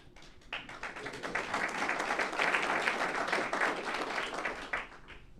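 Audience applause at a public talk on democracy, a dense spread of clapping that builds steadily, peaks in the middle and holds at moderate loudness with a few sharper individual claps toward the end.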